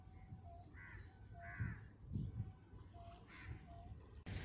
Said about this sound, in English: there's actually quite a lot of crows here just scavenging on the beach here